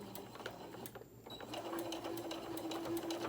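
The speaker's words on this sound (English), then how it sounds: "And just start sewing around." A sewing machine runs a 3.0 stitch length with polyester thread around fabric for small gingerbread-man crafts. Its close, steady mechanical whir pauses briefly near the start, then hums on evenly.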